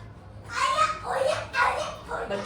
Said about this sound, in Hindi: बच्चों का शोर सुने, आज सब जमा है ना वाकई में।